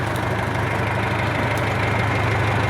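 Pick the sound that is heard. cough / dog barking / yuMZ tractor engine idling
yuMZ tractor engine idling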